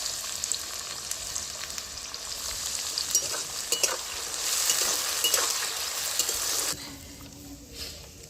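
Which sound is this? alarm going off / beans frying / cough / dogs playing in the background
beans frying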